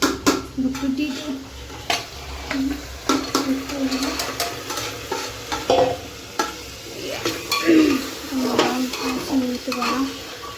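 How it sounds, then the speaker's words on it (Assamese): Chickpeas cooking in a pan, with repeated scraping and clinking stirring strokes over a soft sizzle, close and fairly loud, with faint background sounds. "মই ইফালে বুটটো বহাই দিওঁ"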